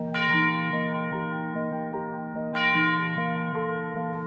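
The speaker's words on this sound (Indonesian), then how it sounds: "Lonceng bahaya berbunyi keras di seluruh penjuru kota" A large alarm bell rings out twice, each heavy clang followed by a long, resonant humming decay, loud and alone without any voices.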